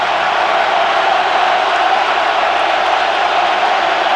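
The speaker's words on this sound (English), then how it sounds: "I think this crowd's getting into it with them backed up a little bit" Stadium crowd at a Washington Redskins football game, a steady dense roar of many voices filling the whole stretch at constant loudness, with no distinct cheer peaks.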